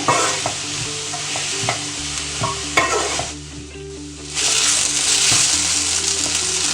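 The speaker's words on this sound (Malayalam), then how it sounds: "ഒരു തണ്ട് കറിവേപ്പിലയും കൂടി നമുക്ക് ഇളക്കി കൊടുക്കാം" Onions and curry leaves sizzle loudly while being stirred and sautéed in a pan for egg curry, a steady frying hiss broken by sharp spoon scrapes and clicks, dipping briefly mid-way before resuming at full strength.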